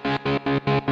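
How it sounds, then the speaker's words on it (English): Electric guitar through a gated flanger effect, five evenly spaced chopped pulses of a sustained swirling chord, loud and close with no other sound. "It is the flanger sound."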